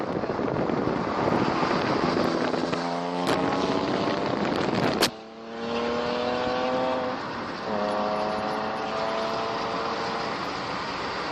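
A Porsche engine revs hard on a road, climbing through gears in rising, whining sweeps with two sharp shifts, steady wind noise buffeting the microphone and no one talking.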